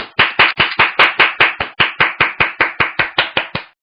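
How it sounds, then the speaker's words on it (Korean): A lecture audience claps for a coach at a recruiting-trends talk, with a steady run of loud, evenly spaced group claps close by and no talk over them. "여러분 모두 크게 한 박수 한번 주십시오."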